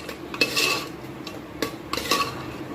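Purple yam, potato and corn curry in a pot, with a metal spoon scraping and clinking against the sides in a few short bursts of stirring, close and fairly quiet.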